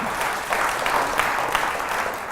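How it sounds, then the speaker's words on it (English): Audience applause at a pensions roadshow talk, a steady wash of clapping from a roomful of people, moderately loud and even throughout with no voices on top. "Give yourselves a round of applause."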